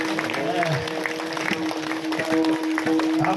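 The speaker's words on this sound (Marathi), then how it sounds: "भाषणाच्या टाळ्या नाही ठोकायच्या." An audience claps at a Shiv katha and kirtan festival in Majalgaon, a steady wash of applause mixed with crowd voices and a tonal drone throughout.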